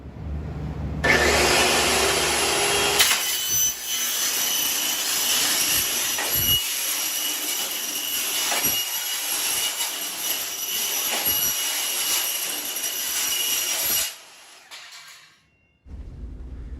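A 48-tooth Metal Devil saw blade cutting thin steel, a loud sustained high-pitched whine of a spinning blade with grinding metal through the cut, then the blade spins down and stops near the end.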